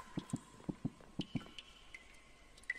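Water drips in the Roblox horror game Apeirophobia, set in backrooms: six sharp, echoing drops in quick pairs, then sparser high plinks over a low ambient hum.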